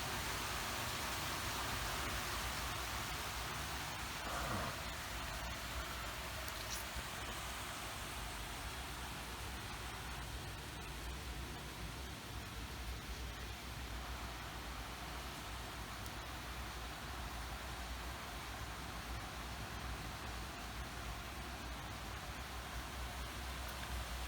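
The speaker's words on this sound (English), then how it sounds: "Thanks for the rain." Rain falls in a constant, even wash of soft hiss, distant and fairly quiet, with no voices and only a faint rumble underneath.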